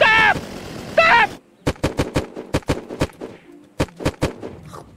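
Video game gunfire: a burst of sharp, loud, evenly spaced shots after a voice cries out, followed by a second shorter volley.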